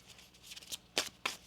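A deck of tarot cards is given a quick, close shuffle, with soft riffling that ends in two sharp snaps of the cards. The shuffle is short and quiet, and no one speaks.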